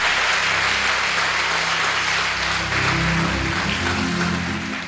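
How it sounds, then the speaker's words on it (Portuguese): A church congregation at a Foursquare (IEQ) service in Governador Valadares applauds, a dense, steady wash of clapping that holds for the whole stretch, with low sustained tones running underneath. "Dá um glória a Deus aí, aplauda o Senhor"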